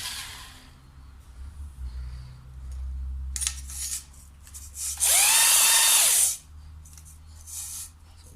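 Honing cylinder bores on an Audi B5 2.7T engine block, with a loud scraping, whirring burst in the middle and quieter intermittent rubbing and tool noise around it over a low hum.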